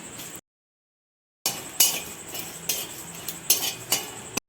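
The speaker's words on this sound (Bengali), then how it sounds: "শুকনো খোলায় একটা মশলা করে নেব তার জন্য জিরা নিয়ে নিয়েছি এক যে এক টুকরা দারচিনি এলাচ লবঙ্গ দুটো শুকনো লঙ্কা একটা তেজপাতা" Whole cumin, cinnamon, cardamom, cloves, dried chillies and a bay leaf are dry-roasted in a pan. A spatula stirs and clinks against the pan in repeated bright strokes with a faint background crackle, broken by a short silence near the start.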